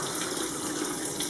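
Water runs steadily from a tap, splashing through a perforated strainer lid during rinsing, a short continuous gush heard alone at moderate volume.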